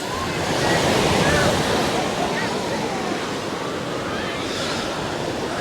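Ocean surf breaks near the shore at a beach, a continuous loud wash of churning water with wind noise on the microphone and no talking.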